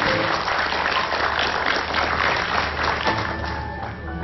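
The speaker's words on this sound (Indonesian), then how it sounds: "Yeay, tepuk tangan." Applause from an audience right after a children's magic trick, a dense, steady patter of clapping at close range that holds at the same level for about four seconds before thinning slightly, with no voices.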